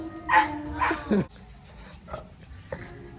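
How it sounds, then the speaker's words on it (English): A small dog, upset after a bath, gives three short yipping barks in quick succession up close, then quieter whimpering sounds trail off. "He is one little angry dog right now."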